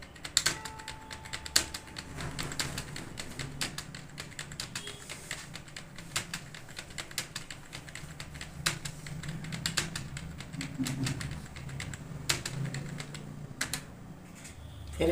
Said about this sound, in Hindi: ये आप टाइपिंग करेंगे